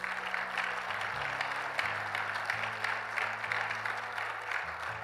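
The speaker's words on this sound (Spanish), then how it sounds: "¿Cuánto le dan un fuerte aplauso al Señor?" Applause from a church congregation during a sermon, a steady, diffuse wash of clapping throughout with sustained organ or keyboard chords underneath, fairly soft and distant.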